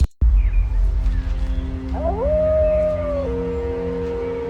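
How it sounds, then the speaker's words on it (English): A wolf howl sound effect from a Unity cutscene rises into one long, clear, sustained tonal wail and then holds steady at a lower pitch. It sounds close and prominent over a low, steady background hum, with no talking. "So maybe I want the wolf howl to start around here."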